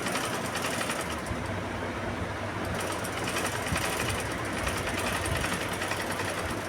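A sewing machine stitches a blouse with a steady, loud, rapid mechanical chatter that runs without a break throughout.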